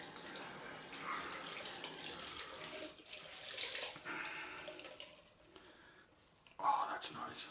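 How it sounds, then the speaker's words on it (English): Cold water runs from a tap into a sink during a straight razor shave, a soft, steady splashing rush that swells and fades, fairly faint and close. "I'm going to add a bit more cold water."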